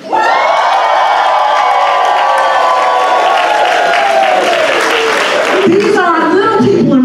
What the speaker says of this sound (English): You will understand why the cheering is so loud.